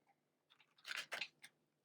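Brief crisp riffling of tarot cards, a couple of quick flutters close by with a softer tap after, no talking.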